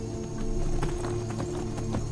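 A horse's hooves clop in a quick, steady rhythm close by in the video game Skyrim, with a faint snort or whinny mixed in.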